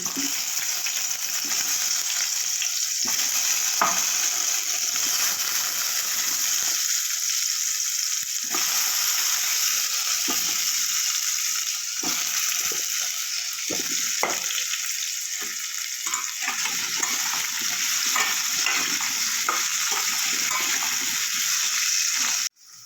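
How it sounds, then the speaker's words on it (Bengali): Elephant foot yam pieces frying in a pan, a loud continuous hiss of hot oil with scattered clinks and stirring knocks, a brief spoken word at the very end. "দিয়ে ভাজা ভাজা করে নেবো একটু"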